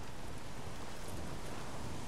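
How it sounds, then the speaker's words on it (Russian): Rain falling outdoors as a steady, broadband hiss of drops, fairly faint and even from start to finish with no other sounds standing out. "дождяра еще пошел"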